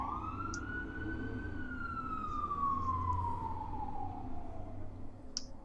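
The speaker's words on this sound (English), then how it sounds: "That was a full-fledged fire truck." A fire truck siren wails outside in a Spanish city, one long sweeping tone that rises and then slowly falls as the truck passes at a distance, with faint street noise underneath.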